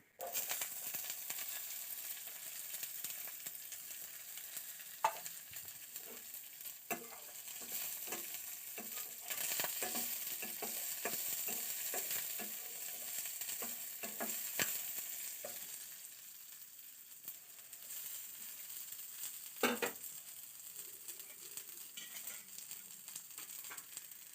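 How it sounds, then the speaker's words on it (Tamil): Onion and curry leaves frying in a pan for an ivy gourd stir-fry, a faint continuous sizzle broken by scattered scraping stirs and clinks, no talking. "வெங்காயம் நல்லா வதங்கணும்"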